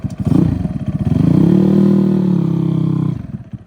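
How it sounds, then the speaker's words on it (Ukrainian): A YX160 motorcycle engine on a Delta bike warms up, puttering close by, picks up into a steady raised rev, holds, then drops back down. "Трошки прогріваємо двигунчик."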